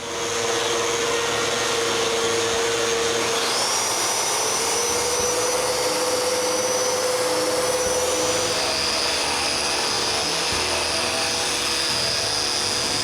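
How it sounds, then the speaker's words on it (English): A power sander working over solid pine pantry pieces, a loud continuous whine and hiss that holds steady throughout with slight pitch shifts as pressure changes, alone and close. "I sand everything that will be inside the case"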